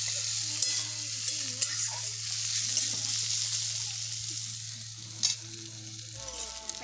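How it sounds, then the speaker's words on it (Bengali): Onions frying in a pan on a village kitchen fire sizzle steadily while a utensil stirs them, with a few sharp scraping knocks and a low hum underneath. "পেঁয়াজ ভাজা হচ্ছে"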